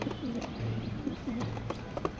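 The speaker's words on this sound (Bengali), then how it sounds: "এই কবুতরটা হলো আপনার ইয়াং কবুতর" A young pigeon coos softly in a loft, several low throaty coos in a rolling pattern against faint background noise and scattered clicks.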